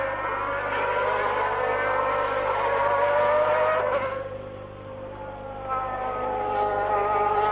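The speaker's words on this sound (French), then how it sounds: "Piquet est passé." Formula 1 cars from the 1990 San Marino Grand Prix scream past one after another, high engine notes rising and falling as they pass, loud and continuous with a brief dip before the next car arrives.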